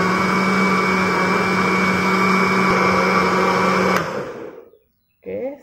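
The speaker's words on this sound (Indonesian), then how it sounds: "Ya, blender lagi." Blender whirring steadily as it blends coconut with water for thin coconut milk, a loud continuous motor drone that stops abruptly near the end, followed by a brief faint clatter.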